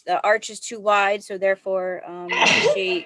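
A sneeze bursts out near the end of a short stretch of steady talk during an online meeting.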